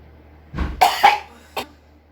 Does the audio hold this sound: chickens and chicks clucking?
no